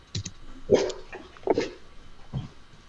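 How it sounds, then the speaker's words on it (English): A dog indoors gives three short barks or yelps spaced about a second apart, fairly close and moderately loud. "My dog's barking."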